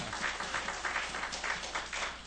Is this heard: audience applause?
yes